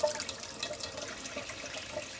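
Tap water runs steadily into a pot being filled for pasta, a soft continuous splashing hiss at low volume with no voices.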